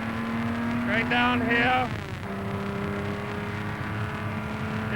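A 1956 Le Mans race car on the Mulsanne Straight roars steadily at high speed, its engine note climbing then dropping and settling into a continuous drone, with someone speaking briefly over the noise.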